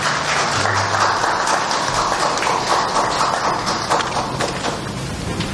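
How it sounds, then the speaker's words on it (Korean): A church congregation applauds during a Sunday worship service in Korea, a steady wash of clapping from many hands that fills the room and holds evenly throughout. "박수로 축하해 주시기 바랍니다."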